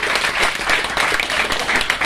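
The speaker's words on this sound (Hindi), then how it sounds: "जोरदार तालियां।" Audience applause at a company launch programme in Amravati, a dense, steady burst of many hands clapping together at full strength from start to finish.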